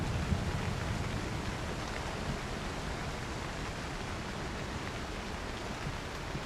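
Steady, even hiss of rain falling in the video game Cairn, spread broadly and unbroken at a moderate level, with no voices over it.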